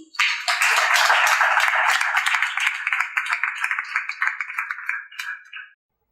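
A church congregation applauds warmly, a dense burst of many hands that swells quickly, holds steady for several seconds, then thins and stops abruptly.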